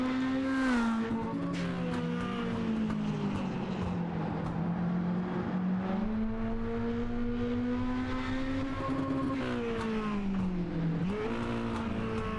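A mini-stock race car laps a racetrack, its engine holding a steady droning pitch that dips and climbs through the corners, loud and continuous throughout without any talking.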